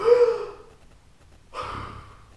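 A person draws two audible breaths, a strong gasping inhale followed after a short pause by a second, softer breath, close and clear with no talking.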